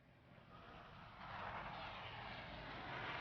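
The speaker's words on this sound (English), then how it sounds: "there's planes coming." Aircraft approach in Everybody's Gone to the Rapture, a broad engine roar that swells steadily louder over a few seconds, distant at first and growing nearer, with no voices.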